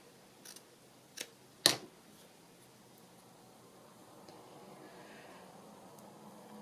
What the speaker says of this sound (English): So I'm going to have to trim that bit off, unfortunately.